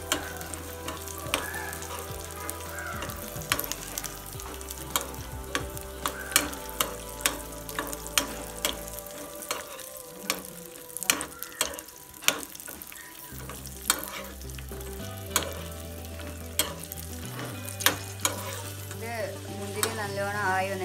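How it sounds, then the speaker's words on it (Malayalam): Raisins sizzle in a hot pan for semiya payasam, a continuous crackling fry punctuated by frequent scraping stirs of a spoon against the pan, close and steady throughout. "നമുക്ക് മുന്തിരിയും കൂടി ഇട്ട് കൊടുക്കാം."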